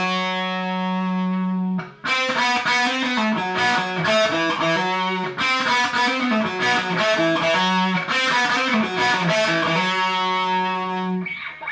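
Distorted electric guitar plays a rock-blues lick: a long held note, then quick picked phrases ending in sustained notes shaken with vibrato, loud and close with no voices.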